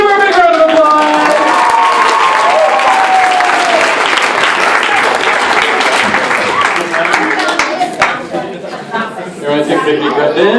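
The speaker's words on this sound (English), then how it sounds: "Give her a big round of applause" An audience at a birthday hypnosis show breaks into loud, sustained applause mixed with cheers and crowd chatter, with a voice speaking over it before the clapping thins out near the end.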